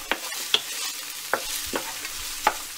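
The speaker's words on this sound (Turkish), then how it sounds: "Şöyle sadece tahta kaşıkla 1-2 karıştırıyoruz." A wooden spoon scrapes and taps against a pan a handful of times over a soft steady sizzle of frying onions.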